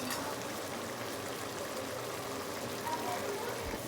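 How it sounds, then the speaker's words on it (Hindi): Water bubbling and boiling off in a pot of white mutton rice pulao, a steady close watery bubbling hiss under low background noise, continuing throughout. "देखिए जैसे पानी ड्राई होना स्टार्ट हो जाएगा तो देखिए बबल्स आना शुरू हो गए हैं"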